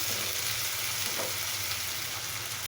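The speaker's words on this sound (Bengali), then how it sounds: "দিয়ে পেঁয়াজটাকে ভালোভাবে কষিয়ে নেব।" Onion paste fries in oil in a pan with a steady, dense sizzle that runs throughout and cuts off abruptly near the end, with no voices.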